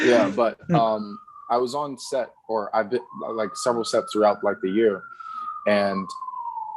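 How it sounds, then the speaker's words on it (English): A siren wails outside in New York City, a steady rising and falling tone running behind a man's close conversational speech throughout. "I'm sorry for the sirens."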